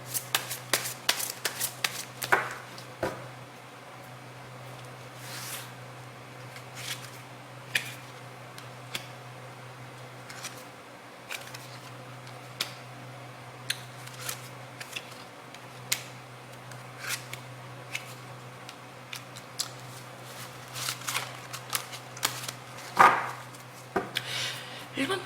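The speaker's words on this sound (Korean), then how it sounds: "그럼 제가 추억 카드를 더 뽑아보도록 할게요" Tarot cards are shuffled by hand in a quiet room. Soft, irregular papery flicks and riffles run throughout over a low steady hum, with brief louder bursts of shuffling.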